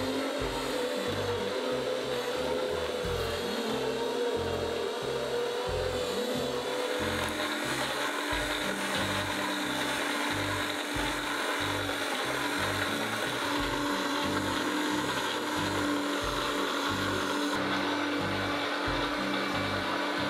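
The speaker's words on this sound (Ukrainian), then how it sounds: "Вмикаємо соковитискач і відправляємо у нього апельсини." An electric juicer pressing quartered, peeled oranges, a continuous motor drone with a rhythmic low chugging pulse that runs steadily the whole time, with no talking.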